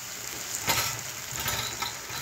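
Three finely chopped fresh tomatoes drop into a hot pan of browned, curdled milk and are stirred in, giving a steady close sizzle with a brief louder splash and soft stirring scrapes.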